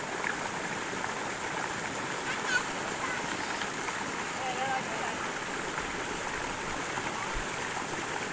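Mountain stream flowing straight down from the hills into a lake, a steady, fairly soft rush of water with a few faint splashes and distant voices now and then.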